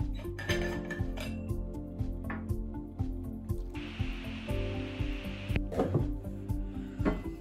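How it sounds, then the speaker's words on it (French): Boiling water pours into a bowl of dark cooking chocolate, making a steady hissing stream for about two seconds amid clinks of a bowl and utensils, over rhythmic background music. "Et dans ce bol tu vas rajouter 125 ml d'eau bouillante"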